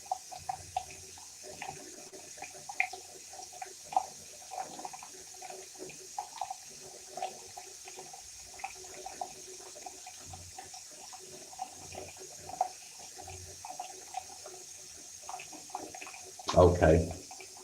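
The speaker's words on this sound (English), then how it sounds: "So I'm going to run some water." A bathroom tap runs with a steady trickle of water, with faint sporadic knocks and a louder burst near the end, heard alone without talk.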